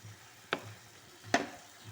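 Two brief scraping strokes of a spoon through thick vegetable curry in a pan, over a quiet low sizzle.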